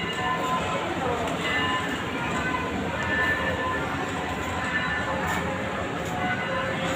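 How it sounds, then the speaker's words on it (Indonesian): A steady, loud rumble of a train ride rolling past nearby in a mall, with clattering wheels and a faint bell ringing in the distance. "Ada kereta api lewat."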